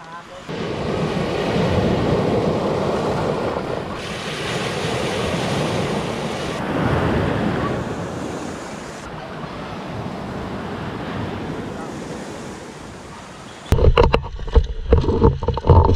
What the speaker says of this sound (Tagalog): Hindi na talaga kumalma ang dagat